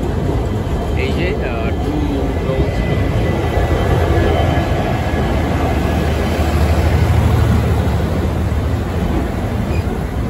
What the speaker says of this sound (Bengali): আমাদের train on time new Jalpaiguri junction ছেড়ে দিয়েছে।